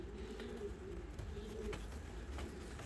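Fancy and costume pigeons coo softly in a steady low murmur, with faint background noise around them.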